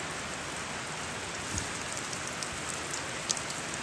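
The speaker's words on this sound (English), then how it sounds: "Been raining for like 2 days" Steady rain falls hard and continuously outside a house whose front yard is flooded after two days of downpour, a dense even hiss with a few brief louder drips and thumps, no voices.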